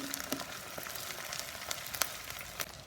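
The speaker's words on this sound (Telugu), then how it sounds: "ఫిష్ ఫ్రై అవుతూనే ఉంది ఆయిల్లో." Fish frying in oil with onions and ginger added, a steady soft sizzle with faint crackles and a few sharper pops, moderately close and quiet, with no talk.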